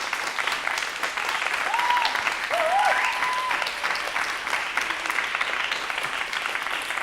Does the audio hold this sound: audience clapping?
yes